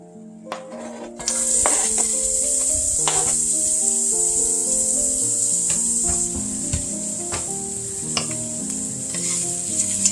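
Onions dropped into a pan of rendered pancetta fat, a loud hiss that starts abruptly and settles into a steady bright sizzle, with repeated wooden-spoon stirring scrapes and knocks up close.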